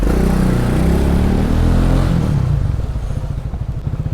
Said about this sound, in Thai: บิดมาใช่ไหม กำคัดผ่อนคันเร่ง งัดเกียร์